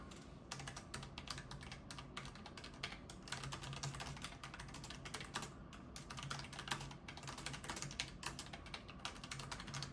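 Continuous mechanical keyboard typing on tactile brown switches, with quick, muted tactile clacks at a steady pace, fairly quiet and close, with no talking.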